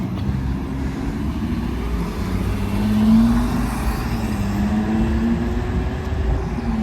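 A car drives past on a Zurich street, fairly quiet for a vehicle with a loud exhaust, its engine tone rising and swelling midway then settling into a steady hum over low traffic rumble.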